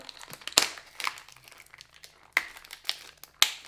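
Packaging around small round boxes is opened by hand: crinkly plastic rustles and crumples with several sharper snaps and tears, close and irregular, with no talking.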